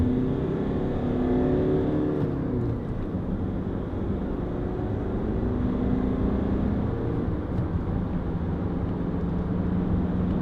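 A Honda CR-V 2.2 i-DTEC diesel engine hums steadily from inside the cabin while driving, with a low rumble and gentle rises in pitch as it shifts through gears.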